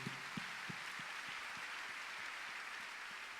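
Applause from a congregation at a church service, a steady wash of clapping heard at a distance and fairly faint, with no voices over it.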